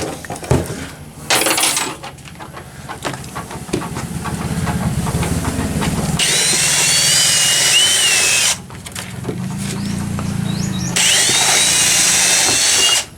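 A power drill whines steadily in two long bursts, near and loud, with a bright grinding edge as a homemade bit bores into material, separated by a brief pause.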